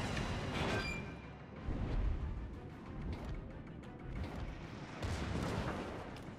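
Heavy naval gunfire in the World of Warships game, with deep booming salvos rolling over a dense low rumble, loudest around two and five seconds, loud and continuous without any speech.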